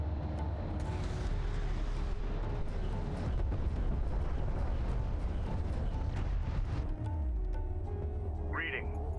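Heavy combat rumble from strike craft under fire in the strategy game Homeworld: Deserts of Kharak, with dense explosions and gunfire over a steady low roar, while voices talk over the battle throughout.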